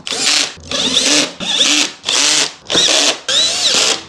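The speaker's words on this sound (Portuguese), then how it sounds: "É só parafusar, ó." A power screwdriver drives screws into the battery cover of a homemade electric scooter with suspension. Six loud, close whirring bursts come in a steady rhythm, with short pauses between them.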